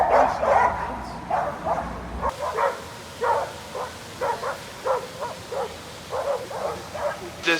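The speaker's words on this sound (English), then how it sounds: "The smartest dog in the tour, the only one not chasing cars" A street dog yelping and barking in a city street, a run of short repeated yips and barks at close range over faint traffic noise.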